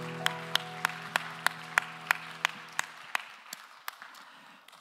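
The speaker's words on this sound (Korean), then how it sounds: "우리 박수로 서로를 응원합시다." A congregation at a Sunday youth worship service in a church claps together, a rhythmic round of applause with sharp regular beats under lingering sustained music that fades out partway through.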